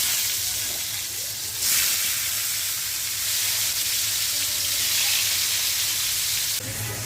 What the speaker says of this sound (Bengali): আর কয়েকটা তেলাপিয়া মাছ ভাজবো।